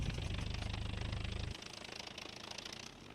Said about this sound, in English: he gets quieter as he revs up the engine